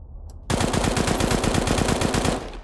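Rapid automatic FAMAS fire in a video game shooting range, a loud, steady burst of about two seconds after a faint click, with no talk.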